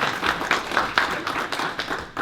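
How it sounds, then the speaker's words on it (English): Audience at a startup demo day event applauding, a loose patter of claps from a modest crowd, a few sharper hits standing out, fading toward the end. "Yes, that's the time when you can applaud."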